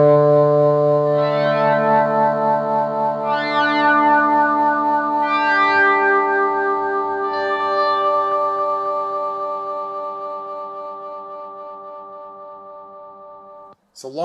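Electric guitar played through an attenuator, with echoing sustained notes and chords swelling in and slowly fading, layered with chorus-like effects, heard alone without talk.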